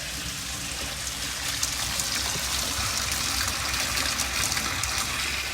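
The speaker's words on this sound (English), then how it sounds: "So I'm gonna turn the hot water on here and start the rinse sink." Hot water runs steadily from a tap into a rinse sink, a continuous close splashing gush that stays even throughout.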